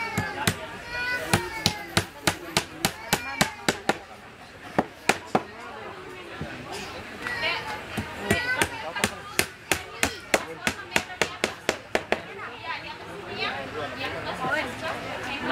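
A hammer drives nails into wood in quick bursts of sharp, ringing blows, some steady runs and some pauses, while people chatter and talk throughout in a busy outdoor work setting.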